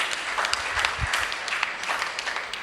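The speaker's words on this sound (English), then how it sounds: "give her a round of applause." Congregation applause during a church mass, a short burst of scattered clapping of moderate loudness, heard on its own without speech.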